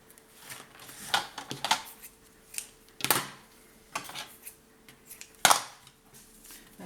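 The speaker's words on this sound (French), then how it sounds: "Je vais couper mes deux morceaux." Scissors snipping two pieces of paper for a scrapbook multi-card album, a few sharp close cuts in separate bursts with quiet pauses between.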